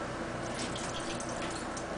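Liquid marinade juice being poured into a bowl while smoking chicken, a steady, soft trickling splash that runs continuously and faintly with no talking.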